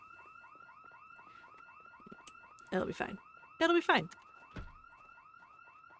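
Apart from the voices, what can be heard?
building alarm ringing in video game Project Zomboid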